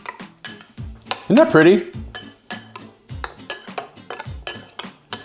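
A vinaigrette being stirred together in a pan, with repeated metallic scraping and clinking of a utensil against the pan in a quick rhythm, close and fairly loud, with a brief spoken remark partway through.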